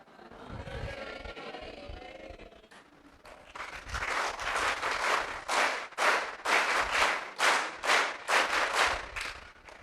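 Applause from an audience of teachers and students at a camp gathering in an ashram hall, starting after a brief murmur and building into loud, rhythmic bursts of clapping that pulse in waves until the end.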